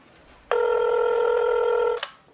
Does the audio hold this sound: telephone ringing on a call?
yes